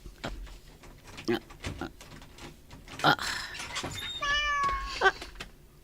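A large cat meows several times indoors in a room, a short run of rising and falling calls near the end, with people talking and household knocks around it.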